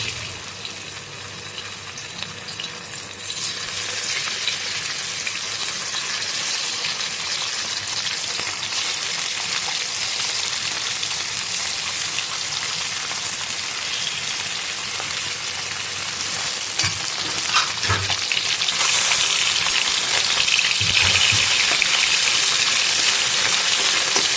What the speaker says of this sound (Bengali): তো এখানে দেখুন চুনো মাছ ভালো করে ধুয়ে টুয়ে নিয়ে এটাকে নুন হলুদ মাখিয়ে নিয়েছি আর এবার এটাকে জাস্ট ভেজে নেব